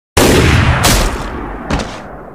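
Gunfire in a Mario and Luigi video game: a sudden loud blast opens the clip, then a sharp second shot and a third fainter report, each trailing off into a noisy decay, with no talking.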